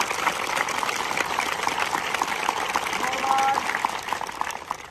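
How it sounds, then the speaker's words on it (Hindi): A crowd gives sustained clapping applause for a soldier who has reached final CRPF selection. The dense crackle of many hands runs through the whole stretch, with voices mixed in beneath it. "एक बार दिल से ताली बजाएं।"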